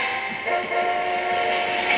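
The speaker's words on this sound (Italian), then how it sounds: "Ecco il treno." A train in the video game Ape Escape 3 rolls past with a steady, moderately loud mechanical hum and rattle, heard alone for a couple of seconds.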